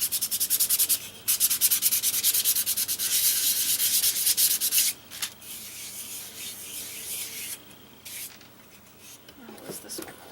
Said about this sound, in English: So let me sand it very quickly. Light sanding.